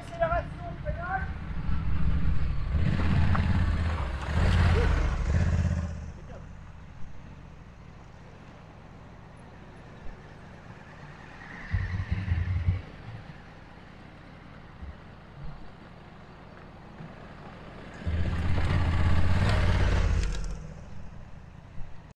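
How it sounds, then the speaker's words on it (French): Honda Africa Twin motorcycle engine revving in short bursts as the rider accelerates and brakes, three loud surges separated by quieter idling, fairly close, with no talk over it. "Petite accélération, freinage."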